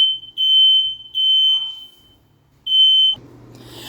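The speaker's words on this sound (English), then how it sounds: "I had to pause that video real quick because the smoke detector went off" A household smoke alarm emits loud, piercing high-pitched beeps, two long tones and then a third after a pause, close by and with no voices.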